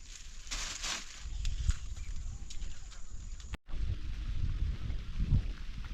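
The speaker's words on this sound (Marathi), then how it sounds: "पाऊस चालू आहे" Steady hiss of rain falling, with soft low rumbles and a brief dropout partway through; no talking.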